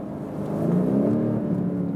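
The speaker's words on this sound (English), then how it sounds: "Now, you maybe heard the exhaust valve." BMW M850i coupé accelerating with its exhaust valve open, a low swelling engine drone and whir that builds and holds, steady and moderately near, with no talking.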